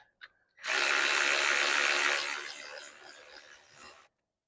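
Bolts of 17 mm size are loosened on a Ford Super Duty pickup with a power tool, a short sharp tap, then a loud sustained whirring burst that tapers off over about three seconds, close and with no talk.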